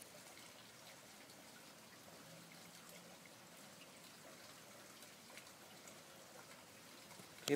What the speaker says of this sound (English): It's been raining all morning so far.